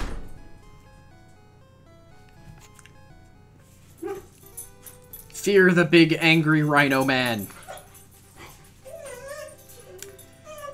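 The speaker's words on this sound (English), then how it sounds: "now the dogs are all freaking out" Dogs indoors erupt in a short burst of high whimpering yelps and barks midway, loud and close, with someone talking before and after.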